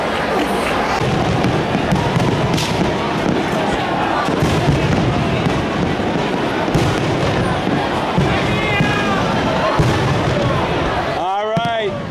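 Fireworks burst over Venice, Italy, a continuous loud barrage of booms and crackles with cheering crowd noise beneath and a whistling rocket near the end.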